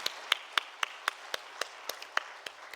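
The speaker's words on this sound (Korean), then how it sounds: "하나님께 영광의 박수 올려드리겠습니다" Church congregation at an evening worship service clapping to glorify God, a sparse, steady rhythm of about a dozen separate claps, moderately close and fairly quiet.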